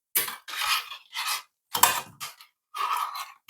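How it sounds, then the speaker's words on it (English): A spoon stirring cinnamon and honey into a cup of tea, bursts of light scraping and clinking against the cup in five or six short separate strokes, close and fairly quiet. "Give him a bit of stir."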